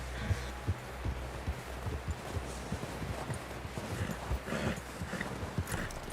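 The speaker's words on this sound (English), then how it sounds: "Someone help John down off this horse" Horse hooves clip-clop at a walking pace in the video game Red Dead Redemption 2, a steady run of soft, muffled hoofbeats under a low background rumble.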